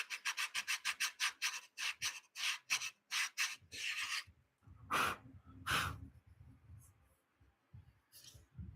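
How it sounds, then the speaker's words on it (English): Rapid rhythmic rasping strokes of sanding, about a dozen quick passes, then a few slower, heavier scrapes and quiet pauses. "I did some sanding."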